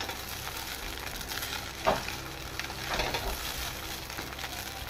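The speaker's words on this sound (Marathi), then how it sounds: "पोहे व्यवस्थितरित्या परत हलवायचे आहे" Poha being stirred in a pan after a pinch of salt is added, giving a steady soft sizzle with faint scraping and one sharper clatter near the middle.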